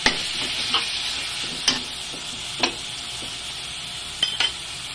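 Vegetables and a seasoning cube stirred in a sizzling cooking pan, steady frying hiss with a few sharp utensil scrapes and taps spaced irregularly, close and moderately loud, no talking.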